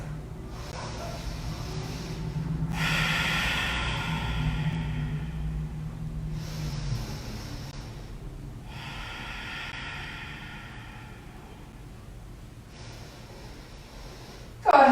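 Slow, deep breaths drawn in and let out during a restorative yoga pose, close and audible, each long inhale and exhale rising and fading in an unhurried rhythm with quiet pauses between.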